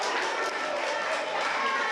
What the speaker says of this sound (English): The crowd chanting for Abel to get back to his feet as he starts to stagger his way up.